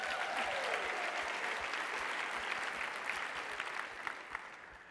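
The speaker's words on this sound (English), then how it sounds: "Give yourselves a round of applause." Audience applause at a motivational keynote talk, a dense, sustained burst of many people clapping that holds steady and tapers slightly toward the end.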